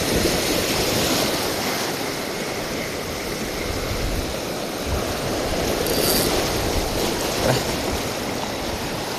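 Continuous loud roar of sea waves and surf breaking nearby at Ragay, a broad rushing wash with no voices.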